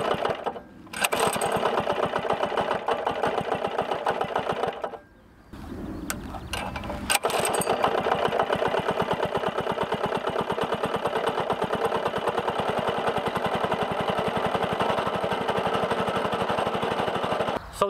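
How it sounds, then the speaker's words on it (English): A Lifan 80cc four-stroke go-kart engine on a buggy runs steadily after its first pull start, a loud continuous mechanical putter with a brief dip and stumble partway through before settling back into an even idle. "So this is how you start the Lifan 80cc 4-stroke engine for the first time."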